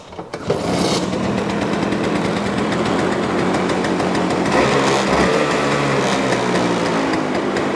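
A Vespa Stella scooter engine, choke pulled out, fires up after a brief sputter and settles into a loud, steady high-pitched idle, close by and running alone.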